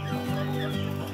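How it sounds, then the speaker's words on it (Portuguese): Newly hatched Polish giant chicks peep in a high, continuous chorus with steady loudness, sounding close by and with no voices present. "Começou a nascer os pintinhos deles hoje."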